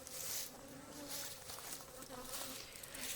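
Honey bees swarm and buzz steadily around an open hive while a colony is being split, a dense, continuous drone with no talk over it.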